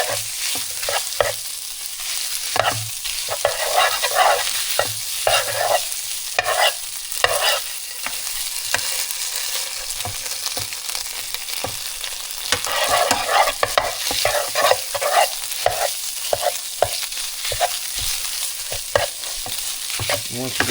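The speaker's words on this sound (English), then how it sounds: "Mix it up really good." Ground beef and refried beans stirred in a hot skillet, a steady scraping and sizzling with a run of spoon strokes across the pan for the whole stretch, close and fairly loud, with no talking.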